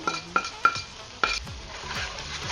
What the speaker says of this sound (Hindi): बस अब इन सब चीज़ों को अच्छे से मिक्स कर लें।